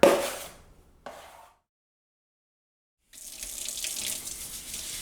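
Water mixed with vinegar splashes into a drywall mud bucket, a short burst that stops, then a brief splash, a pause of silence, and a steadier pouring wash to the end.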